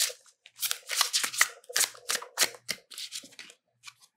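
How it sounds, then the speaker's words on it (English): Tarot cards are shuffled and pulled from a deck, giving a quick run of close, crisp riffling and sliding bursts with brief pauses between them, alone and without voices. "I'm going to pull a couple more cards here"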